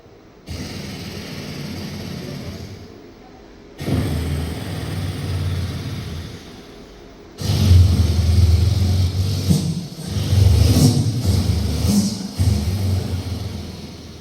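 A man imitates machine-gun fire with his voice during a live mimicry performance, the rattling bursts loud and near in several long stretches separated by short pauses, with no other talk.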